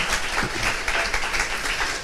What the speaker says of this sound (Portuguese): Aplauda o Senhor então, igreja.